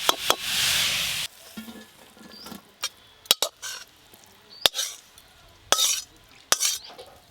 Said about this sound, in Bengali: একদম ঝরঝরে শাক ভাজা হয়ে গেলে এবার ঢেলে নেব।